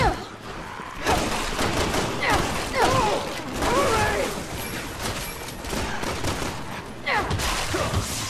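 Repeated gunfire bursts from the Resident Evil 6 video game, loud and continuous, with shots clustered in rapid volleys; in-game voices and effects sound over the shooting.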